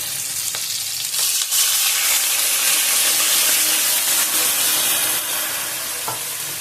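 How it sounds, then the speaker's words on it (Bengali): Water hits the hot egg curry masala in the pan and sets off a loud, steady sizzling hiss with steam. A few faint clatters sound underneath, and it continues without pause for several seconds. "তেল বেরিয়ে গেছে এবার আমি জলটা দিয়ে দেবো"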